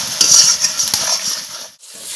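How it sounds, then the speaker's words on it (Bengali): Spice paste with a pinch of sugar sautéing in a pan for a chicken dish, a bright, loud close sizzle with a few scraping stirs, briefly dropping out near the end. "এখন আমি মশলাটা খুব ভালো করে কষিয়ে নেব।"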